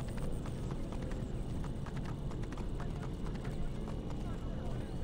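Horse hooves galloping in the video game Assassin's Creed Origins, a rapid steady clip-clop over a dense rumbling game soundscape, continuous and moderately loud.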